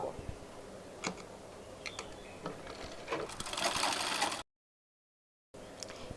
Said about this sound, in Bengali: তো এইভাবে করে প্রথমে সেলাই করব